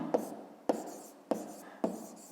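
A pen writes out a fifth-grade math solution on paper, making four quick, close scratchy strokes at an even rhythm, each starting with a small tap.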